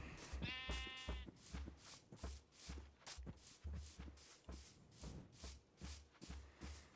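Sheep bleat in a farming video game, one clear bleat near the start over a steady rhythmic shuffle of footsteps that repeats through the whole stretch.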